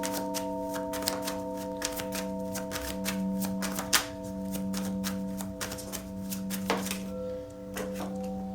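A tarot deck is shuffled by hand, producing a run of soft, rapid card flicks and taps close by over a steady electrical hum, with no voices.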